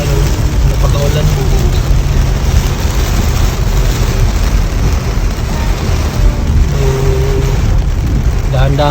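Heavy rain pouring down in a flooded city during a downpour, a loud steady roar with passing vehicle rumble, and a person speaking over it.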